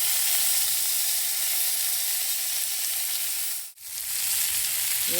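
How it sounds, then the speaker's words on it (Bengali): Onions fry in a pan with a loud, continuous sizzle and hiss that stays close and even, broken once by a short dip. "পেঁয়াজটা ভাজা ভাজা করে দিলাম।"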